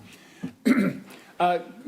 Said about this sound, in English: I started coughing.